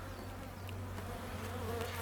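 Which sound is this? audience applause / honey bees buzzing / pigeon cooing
honey bees buzzing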